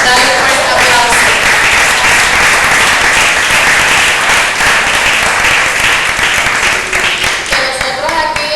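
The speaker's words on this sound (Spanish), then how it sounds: "Dale un fuerte aplauso." A church congregation breaks into loud applause during a service, a dense, sustained roar of clapping at close range with a voice briefly audible near the end.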